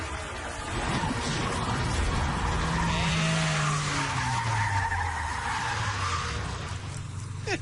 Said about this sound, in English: during a race to see who can deliver letters fastest, Tanner's out of control